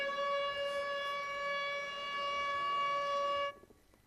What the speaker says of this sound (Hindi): तेल अवीव में हमले के बाद से सायरन बजे हैं